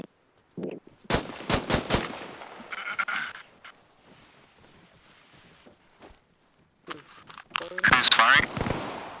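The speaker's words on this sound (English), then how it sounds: "Who's firing?" Gunfire in Arma Reforger sounds as sharp individual shots and short bursts, some close and loud, others fainter, with a quiet stretch between the volleys.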